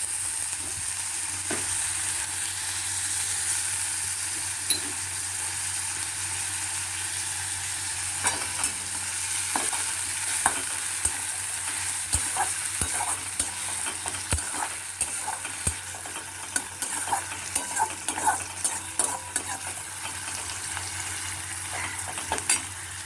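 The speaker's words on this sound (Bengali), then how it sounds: "সবার আগে আমি দেব পেঁয়াজ বাটা পেঁয়াজটা কিন্তু আমি পুরো মিহি করে বাটিনি" Coarsely grated onion paste fries and sizzles in a pan, with a constant hiss and repeated scraping stir strokes and occasional utensil knocks, close and steady throughout.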